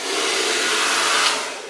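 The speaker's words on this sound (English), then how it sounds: "I've got my hairdryer, and I'm going to dry my hair" A handheld hair dryer blows steadily while drying hair, a loud, close, continuous breathy whoosh that holds for nearly two seconds with no voices.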